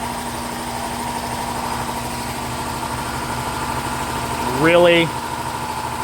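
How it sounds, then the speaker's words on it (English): An air compressor runs with a steady, droning hum in a garage during maintenance on a Coyote-swapped Ford Bronco; a voice speaks briefly near the end. "since we were rudely interrupted by the air compressor"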